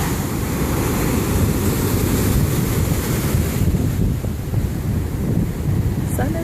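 Big ocean waves surge into a yard and pool in Hawaii, a loud, continuous roar of surf and rushing water mixed with heavy wind rumble on the microphone, with no clear talk.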